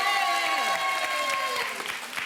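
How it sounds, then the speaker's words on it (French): A television studio audience applauds a couple on a French dating game show, brisk clapping under a bright musical tone and a voice, tapering slightly at the end. "On vous applaudit Hélène et Kevin et on salue Sylvie et Laurent"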